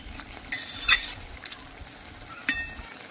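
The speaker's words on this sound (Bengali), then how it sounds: "কুমড়ো ফুলের যে জলটা বেরিয়েছে, জলটা ফুটতেও শুরু করে দিয়েছে।" Pumpkin flowers cooking in tempered oil, their released water starting to boil, give a low, steady simmer with soft sizzling, punctuated by a few light utensil clinks and stirring scrapes near the pan.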